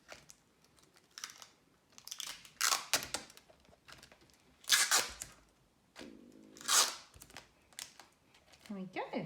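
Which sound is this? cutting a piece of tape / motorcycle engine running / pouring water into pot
cutting a piece of tape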